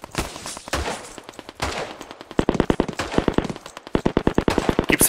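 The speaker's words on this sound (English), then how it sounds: "As soon as the heavy machine gun is deployed" A heavy machine gun in Hell Let Loose fires long rapid bursts of sharp, loud, evenly spaced shots, with a few short pauses between strings of fire and no talking.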